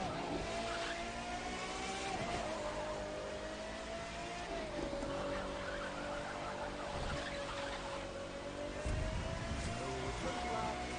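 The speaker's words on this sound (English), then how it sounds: "the car's got its own sound effects" Continuous engine drone with a steady pitch that dips and rises as the car shifts and accelerates, loud and sustained throughout, racing audio from the video game The Crew 2.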